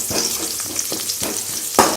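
Finely chopped onion fries in a pan, a steady sizzle broken by several scraping stirs of a spoon, close and fairly loud, with no talk.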